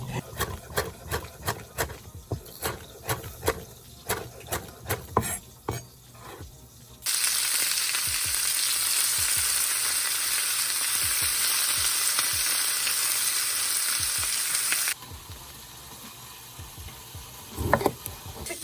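Salmon sizzles loudly in a hot pan, a steady crackling hiss in the middle, with scraping and clattering utensil sounds before and after.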